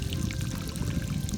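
Water is pushed through a filter capsule for water testing, giving a steady, close gurgling pour with a trickling texture throughout.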